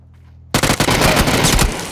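Automatic gunfire in a battle royale video game, a loud sudden burst of rapid shots that erupts after a brief quiet moment and continues in a dense rattling volley.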